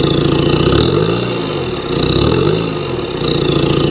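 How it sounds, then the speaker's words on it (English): A Rover Streetwise TD diesel engine revs twice in quick succession, each throaty rise and fall topped by a high, rising-then-falling turbo whine, loud and close with no talking. "real nice turbo whine"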